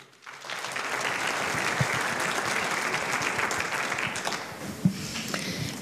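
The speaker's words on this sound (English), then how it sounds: "Please give a big round of applause to Barbara de Mul." An audience at a press conference for an Arabian horse racing forum in Madrid claps steadily, a dense, even round of applause that swells quickly and tapers near the end.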